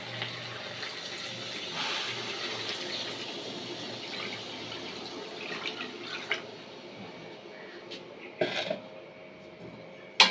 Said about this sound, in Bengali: এবার আমি ফাইনাল জল ঢেলে দেবো, যেরকম ঝোল রাখবো আমি সেই হিসেবে জলটা আমি ঢেলে দেবো।